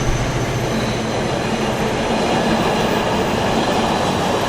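A freight train rolls past close by at Kenilworth, a loud continuous rumble with rhythmic clatter of wheels on track and faint squeal.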